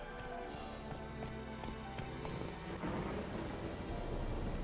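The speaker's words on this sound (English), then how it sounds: "The storm, damn it." Thunderstorm with steady rain and a deep rumble of thunder building partway through, loud and continuous with no voices.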